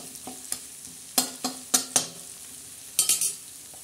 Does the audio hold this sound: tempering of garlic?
yes